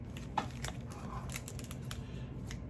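Quiet snipping of scissors cutting into a 2005 Topps football trading card box, with a few short sharp clicks over soft background noise.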